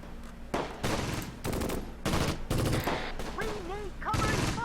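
Many guns firing together in the Close Combat: Gateway to Caen war game, dense bursts of gunfire in repeated volleys with whistling, warbling tones between them and a voice speaking underneath.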